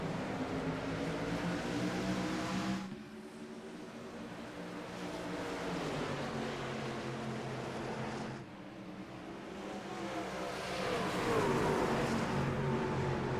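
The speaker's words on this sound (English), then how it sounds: "The 27 truck enters the restart zone, and he is back on the gas, up through the gears." Race trucks power out of a restart at Dover Motor Speedway, engines droning loud and steady with rising gear-change sweeps, briefly dipping then surging again, no voices over them.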